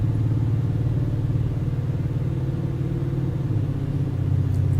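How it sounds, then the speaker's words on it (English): Truck engine in Euro Truck Simulator 2 held at high revs near the redline while hauling a heavy load, a steady loud droning rumble with no talk. "And I am over revving it as always, taking up to the red."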